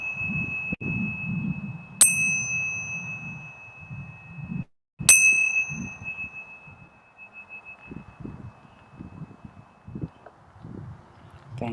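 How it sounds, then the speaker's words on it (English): A meditation bell is struck twice a few seconds apart, each ring bright and sustained with a long fading tone, while soft low rustles and background sounds continue beneath. "preparing to open your eyes as I ring the bell."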